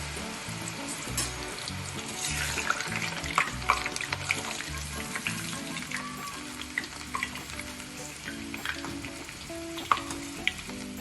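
Sweet potato chevdo fries in hot oil over a medium gas flame, giving a steady, dense sizzle and crackle throughout with occasional stirring clinks, close and continuous with no voices.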